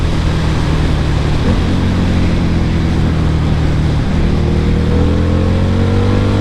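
A Harley-Davidson V-Rod 100th Anniversary motorcycle engine, a 9000 rpm redline bike, running loud and close with a dense steady roar and rising rev pitch toward the end.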